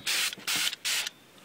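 Three bursts of a spray bottle misting water onto shiitake mushrooms on a balcony, each about a quarter second long, close and hissy, separated by short pauses.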